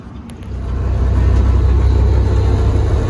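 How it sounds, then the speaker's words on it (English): Steady low engine rumble inside a moving bus, loud and continuous, swelling slightly after the first second. "I'm on the bus, so it's kind of loud."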